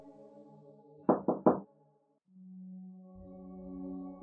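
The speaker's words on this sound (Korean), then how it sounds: "화장실 칸 앞으로 가서 살짝 문을" Three quick knocks on a toilet stall door in a restroom, sharp and close, followed by quiet and then a low sustained drone under ambient music.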